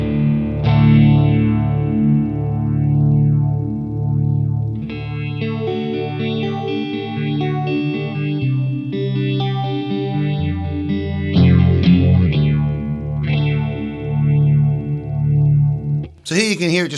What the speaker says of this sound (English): So here you can hear it just phasing.